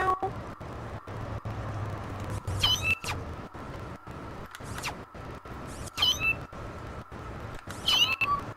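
Cartoonish cat meows from the video game No More Heroes, three short rising calls spaced a few seconds apart over a steady game music and ambience bed.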